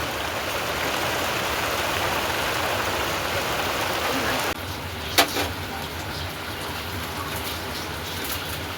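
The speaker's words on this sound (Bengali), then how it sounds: "টেরে বৃষ্টি এসেছে, দেখছো?" A sudden heavy downpour makes a dense, steady hiss throughout, dropping slightly in level partway through, with one brief sharp knock near the middle.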